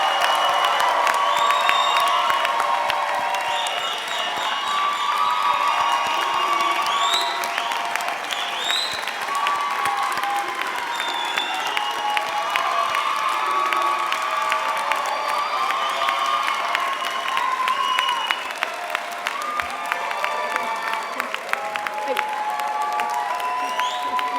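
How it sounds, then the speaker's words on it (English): A large college commencement crowd applauds and cheers graduates steadily, with whoops and shouts rising over continuous clapping throughout. "round of applause for our graduates as we wait for Tasha"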